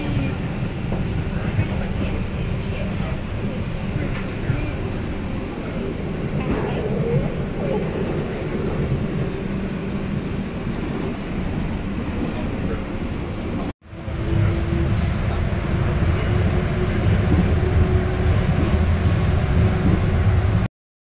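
Airport people-mover train running toward the rental car center station, a steady loud rumble and rolling hum throughout, briefly cutting out near the middle before resuming, with faint announcement-like speech in the mix.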